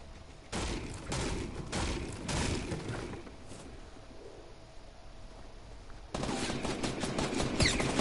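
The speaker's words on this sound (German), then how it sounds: "Schüsse!" Rapid bursts of automatic gunfire in a Fortnite Battle Royale match come in two main volleys separated by a quieter lull, fairly distant and moderately loud.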